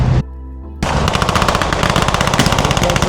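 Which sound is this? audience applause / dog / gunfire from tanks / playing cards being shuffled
gunfire from tanks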